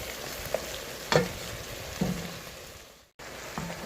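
Browned ground meat for chili being mixed with salt and seasoning in a pot, a soft crackling sizzle with a few distinct scraping stirs, close and without speech, cut off briefly near the end.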